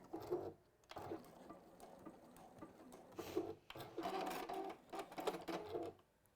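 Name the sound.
sewing machine sewing a triple stitch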